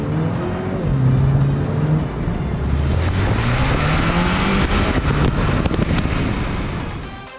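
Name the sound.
2021 Mini Cooper S turbocharged engine accelerating in sport mode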